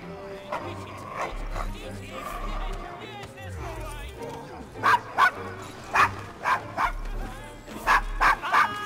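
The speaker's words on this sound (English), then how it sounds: "Is your dog quite all right?" In Assassin's Creed Syndicate, a dog in the Victorian London slum of Devil's Acre barks and yips in short loud bursts toward the end, after game characters talk over background music.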